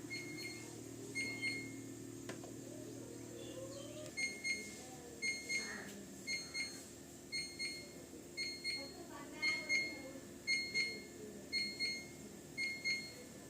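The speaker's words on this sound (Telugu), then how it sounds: "మనం చూసుకున్నట్టయితే ఇక్కడ బీప్ సౌండ్ అయితే రావడం అయితే జరుగుతుంది." A Samsung Digi Touch refrigerator, 2023 model RR23C2F249U/HL, emits a rapid series of short, high electronic beeps in irregular clusters, fairly faint over a quiet room hum.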